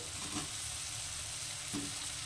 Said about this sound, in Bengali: ভাজা আলুগুলোকে দিয়ে দিলাম এবার এটাকে এর সঙ্গে খুব ভালো করে কষিয়ে নেব